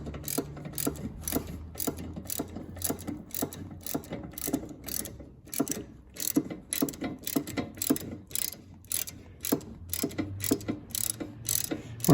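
Ratchet tightening the sway bar on a Smart Fortwo 451, rapid clicking pawl strokes in repeated bursts with brief pauses, close and clear, no one speaking.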